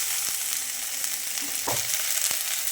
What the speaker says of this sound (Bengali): ভেন্ডিগুলো দিয়ে পেঁয়াজ রসুনের সঙ্গে ভালো করে নেড়ে চেড়ে মিশিয়ে নিচ্ছি